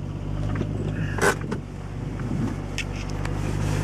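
A 1972 Triumph TR6 rolling into a parking lot, with a steady low engine rumble up close and a few faint clicks over it.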